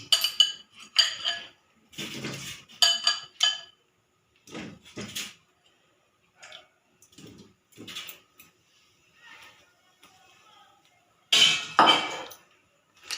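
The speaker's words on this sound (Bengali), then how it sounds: "আলুটা দিয়ে আমি একটু ঢাকা দিয়ে দিচ্ছি, একটু ভেপে যাক।" About 400 grams of salted potatoes go into a cooking pot, which is then covered with a lid. Sharp metallic clinks and clatters come in scattered bursts with quiet gaps between, close by and without speech.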